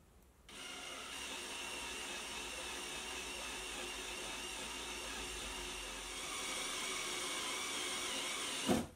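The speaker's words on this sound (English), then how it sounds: "That was only about 30 seconds of drilling." A power drill whirs continuously for several seconds at a steady high pitch while drilling a fixing hole around a window, then stops abruptly, close and alone.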